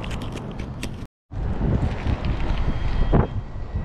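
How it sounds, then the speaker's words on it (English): Strong wind on a Florida beach buffets and roars across the microphone in gusts, with a brief silent gap near the start. "All right, it's so windy."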